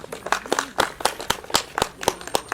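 A small audience clapping for speaker Kamal Dhungana at a gathering, a sparse, uneven run of individual claps close by, with no voices over it.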